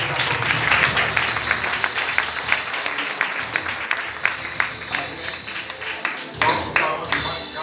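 A church congregation claps and cheers in praise of the Lord, with rhythmic applause and crowd noise filling the hall and voices mixed in.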